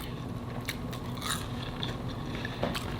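Crunchy french fries bitten and chewed close up, with a few crisp crunches and crackles over a steady low background hum, no talking.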